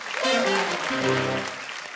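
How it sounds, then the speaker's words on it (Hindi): Studio audience applause greets guests on a Hindi comedy talk show, a short burst of clapping blended with music and a voice, fairly loud and close. "इनके लिए जोरदार तालियां।"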